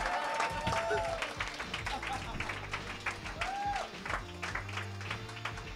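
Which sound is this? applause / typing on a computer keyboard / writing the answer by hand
applause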